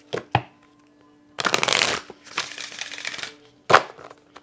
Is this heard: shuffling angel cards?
yes